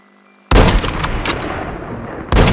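Gunfire from other players in the Call of Duty Mobile video game: a loud, dense burst of shots and booms that cuts in suddenly, rolls on as a continuous clatter, then surges again near the end, with no talk over it.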